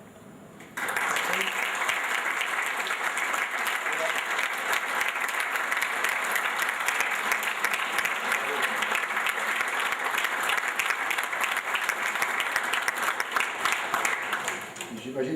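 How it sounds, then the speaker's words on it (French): An audience applauds a film director, steady dense clapping starting abruptly after a brief pause and holding evenly for about fourteen seconds before tapering slightly at the end. "j'aimerais quand même qu'on applaudisse le réalisateur, Jean-Paul Jotte"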